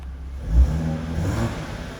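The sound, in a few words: car engine running and revving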